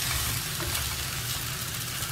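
Capsicum and baby potatoes sauté in a pan, making a constant hissing sizzle with soft stirring texture and no voices.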